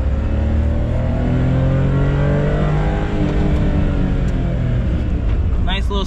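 A small Honda car engine revving steadily from inside the cabin, its pitch rising and falling through the gears, loud and continuous.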